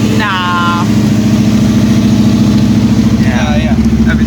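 A Corvette's engine idles slightly high after a fuel tank fix, a steady low rumbling throb running throughout, close and loud, with people talking over it.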